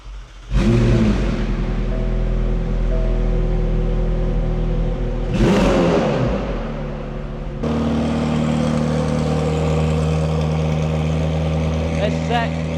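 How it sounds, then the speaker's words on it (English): McLaren Senna engine on a rebuild stand cranking and catching, then revving in loud repeated surges before settling into a steady, rumbling idle, close by with no talk. "Let's start the car up."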